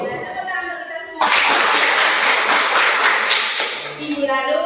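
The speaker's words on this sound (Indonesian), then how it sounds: "tepuk tangan untuk kita semua" Students clap together in a classroom, a dense burst of applause that starts suddenly and runs for about three seconds, loud and close, with a teacher's voice speaking before and after it.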